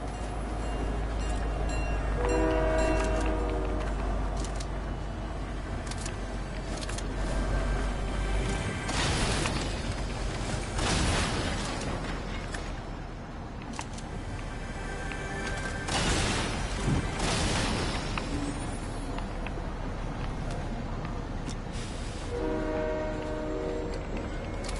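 A train in Fortnite rumbles and clatters steadily, sounding its horn in a couple of sustained chordal blasts, near and loud, with bursts of game noise in between.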